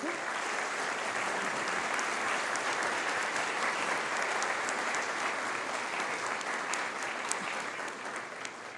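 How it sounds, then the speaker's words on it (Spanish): Sustained audience applause at a panel on archives, transparency and accountability, steady and dense throughout the clip, tapering slightly toward the end. "Les pido por favor un aplauso para nuestras 3 panelistas de lujo."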